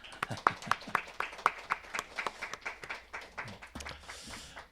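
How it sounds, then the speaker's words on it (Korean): Church congregation applauding at the close of a Korean service, a small group of sharp, distinct hand claps in an uneven rhythm that thins out and fades toward the end. "박수 한번 칩시다."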